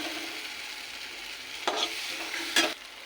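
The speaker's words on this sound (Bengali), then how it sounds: "মশলা কষে এসছে। সাইডে তেল ছেড়ে এসছে।" Spice paste frying in oil in a pan for a coconut-milk taro curry, a soft steady sizzle with a couple of brief stirring scrapes, close and fairly quiet.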